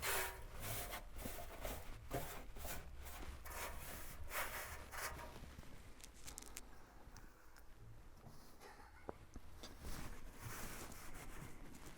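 A sponge rubbing baking soda paste around the inside of a messy oven, producing continuous close scrubbing and scraping strokes, busier at first and then softer with scattered light knocks.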